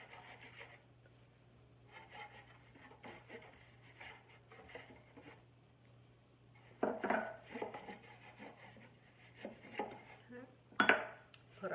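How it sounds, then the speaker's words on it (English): Greasing a narrow, short bread pan by hand: soft rubbing and scraping against the pan, with a few louder clanks and scuffs toward the end, over a steady low hum, no talking. "going to grease that"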